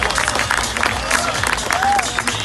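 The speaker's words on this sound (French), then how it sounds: "tout le monde prend sa main droite et sa main gauche et on applaudit bien fort Charlotte." Audience clapping at a diving show at Walibi amusement park, a dense burst of applause with scattered crowd voices, fairly close and steady for a couple of seconds.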